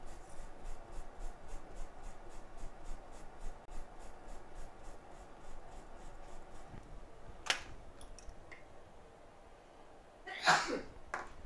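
One sharp sneeze bursts out near the end at an iPhone 7 repair bench, after a long stretch of soft, scratchy rubbing and a brief click.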